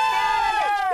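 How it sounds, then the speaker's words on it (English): A group of girls lets out one short, high-pitched cheer, loud and close, with bright sustained shouting voices. "One more cheer, girls."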